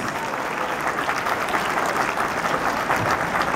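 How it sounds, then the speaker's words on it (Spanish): A convention-center crowd at a 2018 technical institute graduation gives a sustained, dense round of applause, loud and steady throughout with no break. "a quien le damos un fuerte aplauso"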